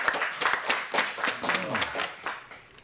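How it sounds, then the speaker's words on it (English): An audience at a live show claps for a performer, giving a short burst of scattered, uneven hand claps with some talking mixed in. "Clap for Steve."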